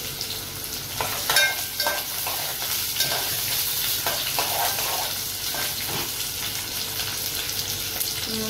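Onions sizzling in hot oil in a pan with whole garam masala for a dry Agri-style chicken liver masala, a steady close frying hiss with scattered stirring scrapes and pops throughout, no talking.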